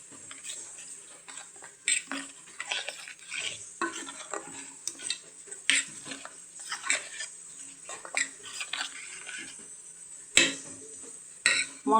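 A spoon stirs sugar, salt and ground spices together in a bowl for aloo dum, making close, irregular scraping and light clinking strokes with no voices.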